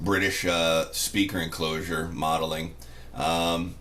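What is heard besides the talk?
No distinct noise like a dog, phone or traffic.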